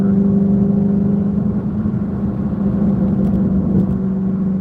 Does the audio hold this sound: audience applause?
no